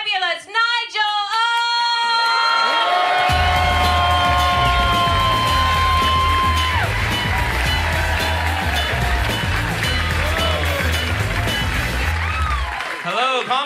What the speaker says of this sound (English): I want a massive round of applause, please, and welcome to the stage